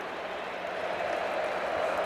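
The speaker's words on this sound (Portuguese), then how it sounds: "A torcida canta." Football stadium crowd during a Brazil vs Australia friendly match: a distant, steady roar of supporters singing and cheering, even and continuous with no breaks.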